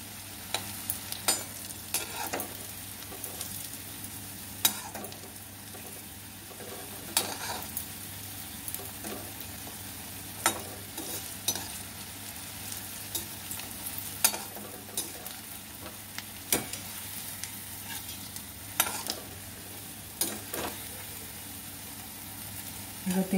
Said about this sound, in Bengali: নিয়ে আমি সব কটা কোপ্তা ভেজে নেবো